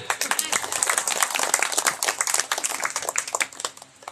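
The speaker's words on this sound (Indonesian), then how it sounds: "Tepuk tangan buat Anaja." An audience at a pesantren gathering claps together in dense, sustained applause, loud and fairly close, slowly thinning toward the end.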